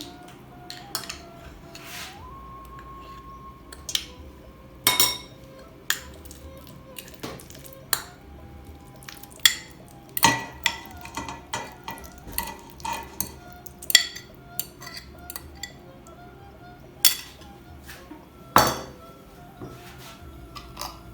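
Clinks and taps of a spoon against a metal pot, with scattered knocks and scraping as blended ginger, tamarind and turmeric for jamu are dropped in and stirred, no speech.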